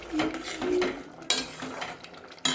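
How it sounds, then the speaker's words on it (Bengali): Grated ginger and ground spices being stirred into a simmering bottle gourd curry, with a utensil scraping and clinking against the pot in uneven strokes and two sharp metallic knocks, close and fairly loud with no talking. "দিয়ে ভালো করে মিশিয়ে নেব"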